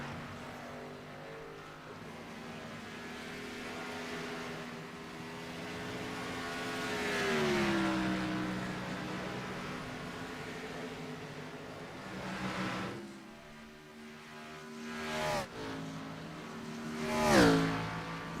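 A Cup Series race car at Darlington Raceway drones along, its engine pitch climbing as it accelerates. Loud passes sweep by near seven and seventeen seconds, with a fainter engine hum between them.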